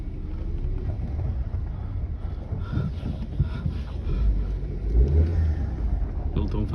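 A Volkswagen Golf on a short test drive gives a steady engine rumble and road noise with some wind buffeting, and a voice speaks over it.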